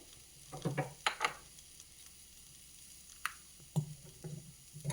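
Grated coconut dropped into hot barley kanji in an urli, a few soft close splats and stirring scrapes against a faint sizzle, quiet and sparse.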